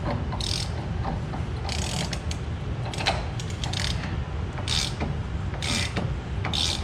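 Tightening a press that seats wheel bearings onto a Jeep Wrangler 14-bolt axle spindle, repeated ratcheting clicks in short bursts with metallic creaks between them, close and steady throughout.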